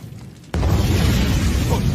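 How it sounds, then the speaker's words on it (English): Smoke bomb going off in an anime fight scene, a sudden loud burst that swells into a sustained roaring hiss filling the rest of the moment. "What's that? A smoke bomb?"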